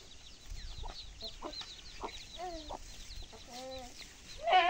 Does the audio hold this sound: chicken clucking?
yes